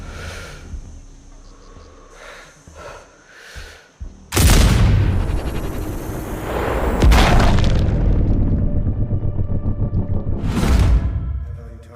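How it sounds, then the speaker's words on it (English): In Sniper Ghost Warrior, faint gunshots and distant thuds give way to a sudden loud explosion that rolls into a long rumbling blast, followed by a second heavy boom and a further burst of gunfire. "I heard an explosion"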